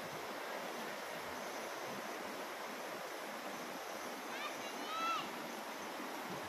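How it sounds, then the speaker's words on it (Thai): Khlong Lan waterfall rushing water, a steady broadband roar that fills the whole clip, with faint birdsong briefly above it. "นั่งฟังเสียงน้ำตก"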